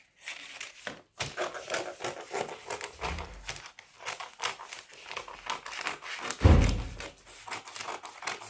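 Scissors snip and trim pocket lining fabric while sewing a front pocket, a steady run of close, crisp cuts and crinkling cloth rustles with a few soft thuds on the table, and no talking.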